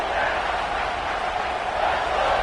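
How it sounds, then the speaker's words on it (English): Stadium crowd in an NCAA football video game roaring as one steady, loud, even wash of noise with no distinct voices standing out. "The roar of the crowd trying to fuel this defense to keep them pinned in their own end."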